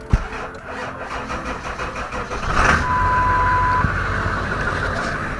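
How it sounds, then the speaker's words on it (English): Rough start of a truck engine, cranking before it catches and settles into a steady running drone, close by with no talk. "she starts pretty rough, doesn't want to start first crank like she used to"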